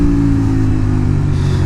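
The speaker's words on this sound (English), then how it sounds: "this V-twin sounds so cool, man" A Honda VTR 250 V-twin motorcycle pulls out of a corner on a country road, its engine note loud, close and steady as it revs, dominating the clip without any talk.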